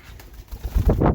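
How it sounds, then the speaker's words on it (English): A pet bird flaps its wings as it flies past close by inside an aviary. The brief, soft rush of wingbeats rises toward the end, with nobody talking. "He flew past me because I let him move past me into the aviary."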